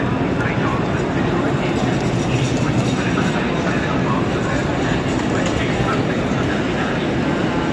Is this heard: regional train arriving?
yes